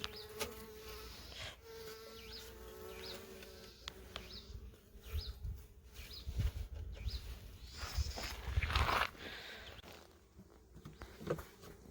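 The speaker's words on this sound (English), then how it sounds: "This beehive is buzzing." Bees swarm and buzz around an open beehive, a dense continuous drone with individual insects passing close, plus scattered knocks and rustles from handling the hive; no talking.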